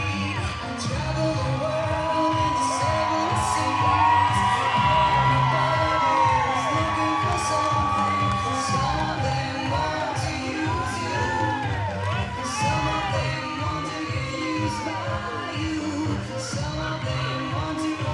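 A packed crowd at a fight event cheers nonstop as a featherweight fighter makes his entrance, a dense roar full of whoops, whistles and shouts that holds steady for the whole stretch.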